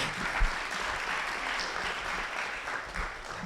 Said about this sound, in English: you still clapped for her